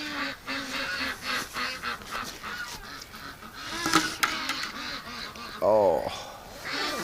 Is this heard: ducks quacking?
yes